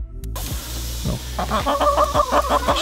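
Backyard chickens cluck close by in quick, repeated bursts that grow busier after a brief thump at the start.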